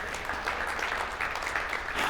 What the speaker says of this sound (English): you're giving him the golf clap like you do me